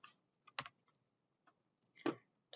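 Keys clack on a computer keyboard as a search phrase is typed, a few quiet, separate clicks and short bursts spread irregularly, close by and with no talking over them.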